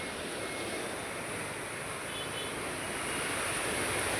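Swollen Baral river water at Charghat rushes in a broad, steady roar mixed with wind noise, continuous and fairly loud with no voices.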